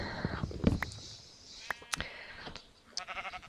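Short bleats from Minecraft sheep sound a few times, close and fairly loud, with brief blocky game noises in between and no talk.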